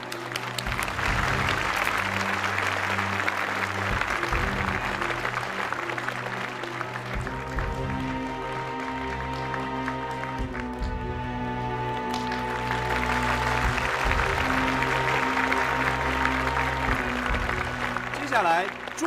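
Sustained, steady audience applause welcoming the chief designer of the Poland brand onto the stage at a design competition award ceremony, broad clapping that holds at an even level throughout with some music underneath.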